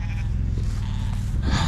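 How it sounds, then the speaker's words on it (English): Ram lambs on a sheep farm, gathered before being brought into the shed ahead of shearing, bleating over a steady low rumble, with a louder call near the end. "we've got these ram lambs here at 200 that we're just going to bring in"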